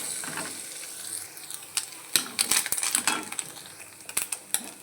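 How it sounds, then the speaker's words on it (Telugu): Coconut pieces frying in ghee for paramannam, a close crackling sizzle that grows busier and louder, broken by sharp spatula scrapes and knocks against the pan. "నెయ్యిలోన ఈ కొబ్బరి ముక్కలు మొత్తం బాగా వేపేసి పరమాన్నంలో వేసుకుందాం."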